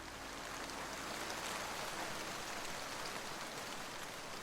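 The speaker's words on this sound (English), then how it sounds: "When it rains in Assam during the rainy season, it pours." Heavy monsoon rain pours in Kaziranga, Assam, a dense, steady hiss of drops on surfaces with no breaks and no voices.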